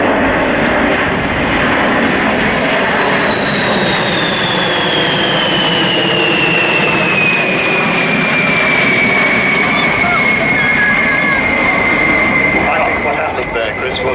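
A Boeing B-52 Stratofortress bomber flies past at subsonic speed, a loud continuous jet roar with a slowly falling whine as it passes, dominating the scene from start to finish.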